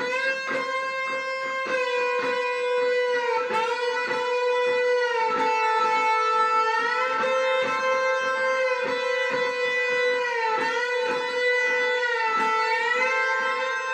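An electric guitar through boost and overdrive pedals plays sustained chords and bends with a thick, driven, boosted tone, steady and loud throughout.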